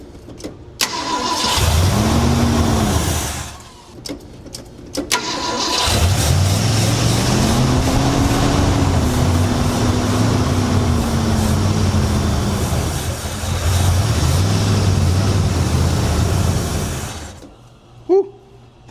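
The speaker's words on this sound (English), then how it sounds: "as this engine goes from barely running to perfect in minutes" A Mercury Montclair engine, newly fitted with a replacement carburetor after sitting frozen for 20 years, cranks, catches and runs loudly, revving up and down in repeated swells with a brief cut out partway through.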